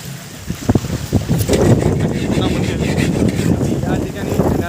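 A boat carrying visitors across open water to the Murba Ganpati island temple near Ulwe, Panvel, Navi Mumbai, with a steady engine rumble and heavy wind buffeting the microphone, continuous and close throughout.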